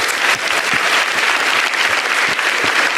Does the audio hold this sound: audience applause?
yes